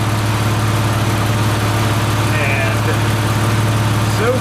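A Nissan Z engine idles steadily just after an oil solenoid bypass delete is installed, a close, even low rumble with a constant hum running throughout.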